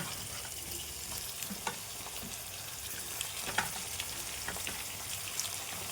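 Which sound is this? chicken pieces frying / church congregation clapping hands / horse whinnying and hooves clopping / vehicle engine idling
chicken pieces frying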